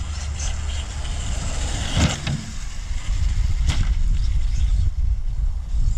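Traxxas X-Maxx RC truck on grass, its electric motor whirring with wind noise before a jump, a couple of sharp thuds marking the landing amid continuous buzzing.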